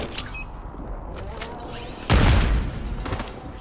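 A burst of gunfire in the video game Call of Duty: Warzone booms in the middle, loud and low, after a stretch of muffled background noise.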